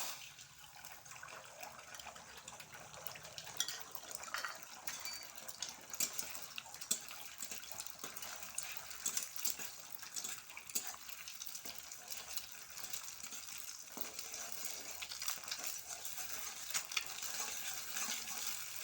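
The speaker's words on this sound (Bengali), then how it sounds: "এবার আগের থেকে ফেটিয়ে রাখা দুটো ডিম এবার আমি তেলের উপরে ছেড়ে দেব" Beaten eggs frying in hot oil in a pan for a Bengali egg bhujia, a steady dense sizzle with occasional stirring scrapes, close and continuous with no talk.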